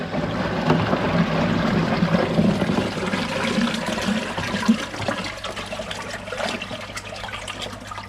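Steady gushing and trickling of water pouring back into a koi pond pod filter, continuous and fairly loud with a low mechanical hum underneath, no voices.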